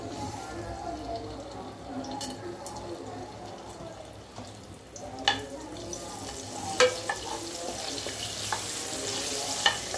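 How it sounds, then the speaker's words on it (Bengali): Cinnamon and bay leaves dropped into hot oil in a home kitchen sizzle and crackle steadily, with a few clinks of a utensil against the pan. "আমি এখন এখানে তেল দিলাম, এরপর আমি মশলাগুলো দালচিনি তেজপাতাগুলো দিয়ে দিচ্ছি।"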